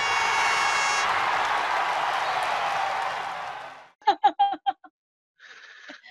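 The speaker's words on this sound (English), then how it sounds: "I can put some applause in here." Stock applause sound effect dropped into an e-commerce show, a dense crowd clapping for about four seconds that fades out, followed by a few short sharp bursts and a brief hiss.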